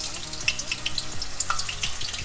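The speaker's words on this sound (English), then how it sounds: "just grab like a slice of onions and just drop it into the oil. Once it starts to fry" An onion slice frying in hot oil for Liberian pumpkin soup, a lively close sizzle with bursts of crackling pops and bubbling, no voices.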